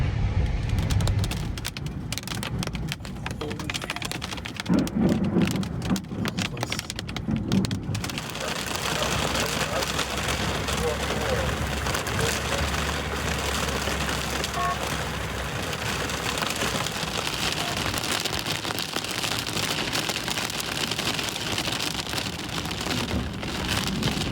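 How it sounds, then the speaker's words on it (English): Heavy rain drums steadily on surfaces at a campsite as a storm arrives in Colorado or Utah, a dense continuous wash with low rumbling beneath. "There's the rain. That's good. Wind without rain is a little unnerving, but that means the storm is here."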